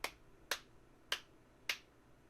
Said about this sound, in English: Are you clapping? Is that what you're doing, Warner?